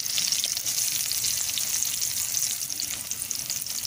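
Chopped onions sizzle steadily in hot oil for a prawn kuzhambu, a dense continuous frying hiss up close with faint stirring underneath and no talking.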